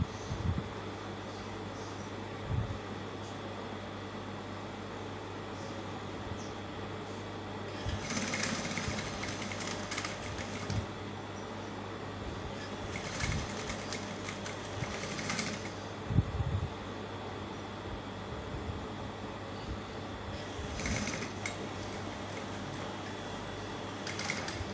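A sewing machine runs along the seam of a lace bustier dress in a few short, fairly faint whirring bursts over a steady low background hum.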